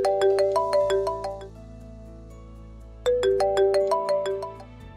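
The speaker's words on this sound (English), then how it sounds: "when I receive a call, the dialer simply pops up" An incoming-call ringtone from the 3CX V18 Windows desktop softphone app: a bright, repeating electronic melody of quick chiming notes that plays for about a second and a half, pauses, then starts again, clear and close with no talk.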